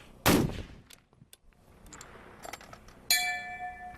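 A long-range rifle shot at a distant target: one loud, sharp report near the start, a quiet interval with faint clicks, then a ringing metallic impact on steel a few seconds later.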